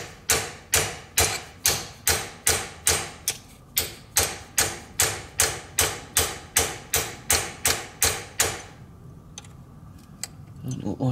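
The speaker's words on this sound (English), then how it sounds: "I might have to get a slightly bigger hammer to see if we can get that to go" During a small restoration project, a hammer strikes a stuck part to knock it loose, delivering about two dozen loud, evenly spaced blows at a steady, brisk rhythm before stopping into near quiet.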